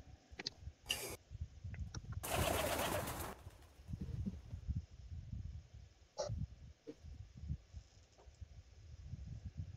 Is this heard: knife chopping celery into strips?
no